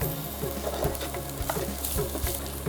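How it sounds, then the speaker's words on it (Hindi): Garlic and ginger sauté in hot oil, giving a close, continuous sizzle broken by light clicks and scrapes of stirring, with no voices. "और इसको हम सौटे करेंगे।"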